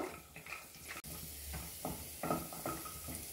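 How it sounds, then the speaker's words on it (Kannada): Cashews and raisins frying in a pan over medium heat, with a soft steady sizzle and occasional stirring scrapes and clinks of a utensil against the pan, close and fairly quiet. "ಮೀಡಿಯಂ ಉರಿ ಇಟ್ಕೊಂಡು ಇದನ್ನ ನೀಟಾಗಿ ನಾವು ಹುರಿದ್ಕೋಬೇಕು, ಅಂದರೆ ಫ್ರೈ ಮಾಡ್ಕೋಬೇಕು."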